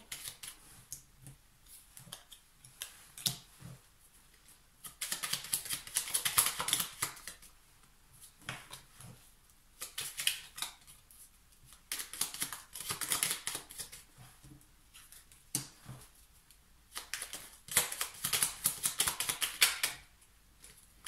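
Tarot cards laid down one after another on a table, a run of crisp slaps and flicks coming in clustered bursts with short quiet gaps, close and fairly loud, no voice.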